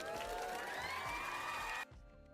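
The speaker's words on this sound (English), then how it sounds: "So we got the crowd applause." Dense crowd applause with cheering that fills the space, then cuts off abruptly near the end, leaving a quieter room tone.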